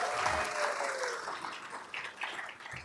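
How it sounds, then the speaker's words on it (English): An audience at a State of the City event applauds the sponsors, a sustained wash of clapping from a crowd that fades slightly toward the end. "Can we give them a round of applause?"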